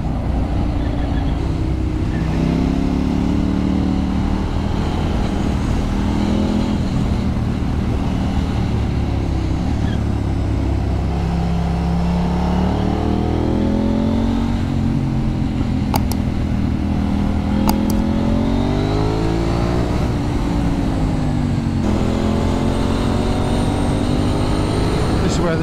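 A KTM 890 Duke R motorcycle engine revs and accelerates hard on Cumbrian mountain pass roads, its rising and falling pitch sweeping through gear changes under steady wind rush, with riders talking over it.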